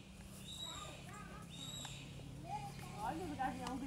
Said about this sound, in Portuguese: Olha o gavião gritando